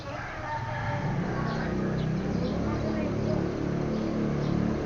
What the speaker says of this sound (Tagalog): Marinig mo lang dito yung ibon.